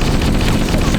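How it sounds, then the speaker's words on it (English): Assault rifle fire from Halo: Combat Evolved comes as a loud, dense burst of rapid automatic shots that roll together into a heavy, unbroken barrage. "When you shoot the assault rifle and it makes a heavy machine gun sound"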